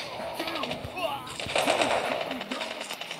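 An automatic weapon fires in short rapid bursts in a first-person shooter match, loud and close, mixed with game effects and a voice talking underneath.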